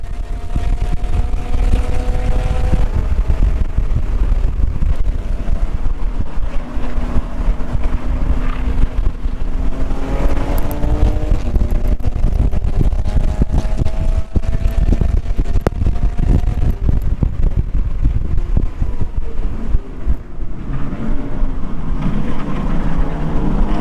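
A BMW race car laps Hallett Motor Racing Circuit with a steady engine drone rising and falling through the gears, heard from inside a following car under heavy, constant wind rush, loud and sustained for the whole run.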